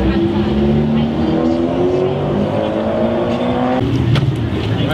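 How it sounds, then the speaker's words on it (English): Cars roll through a charity car show at CCSU, an engine note rising and falling as a vehicle moves past nearby, with a brief sharper burst near the end and people talking in the background. "I'm starting to see some nice cars rolling through"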